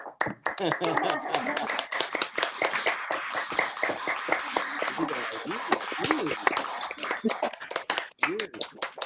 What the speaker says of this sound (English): unmute everybody so everybody can hear everybody clapping